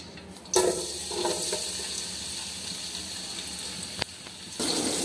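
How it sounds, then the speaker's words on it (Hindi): Chopped onion dropped into hot oil for a village-style aloo methi potato-fenugreek curry bursts into a loud, hissing sizzle that keeps crackling steadily, with a sharp click partway through and the sizzle swelling again near the end. "ऑयल डालने के बाद हम इसमें जो है ना प्याज कटा हुआ ये डालेंगे।"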